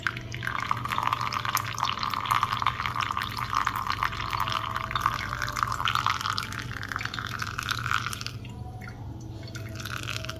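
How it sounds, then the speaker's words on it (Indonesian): Water poured steadily over a bed of ground Alice Soto Costa Rica coffee, a continuous close trickling and splashing stream that runs for about eight seconds before thinning out near the end. "Airnya kalau bisa gerocok nih, nggak usah dibikin lembut airnya."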